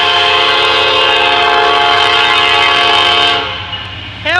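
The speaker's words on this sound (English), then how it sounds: "Here comes a Norfolk Southern southbound." A short Norfolk Southern southbound intermodal freight train passes at Marion, Ohio, sounding a loud, sustained multi-tone horn over rumbling rail noise. The horn cuts off near the end as the rumble fades.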